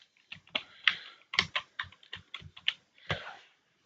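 Fingers type on a computer keyboard, about a dozen crisp key clicks in an uneven rhythm, close and clear with no talk.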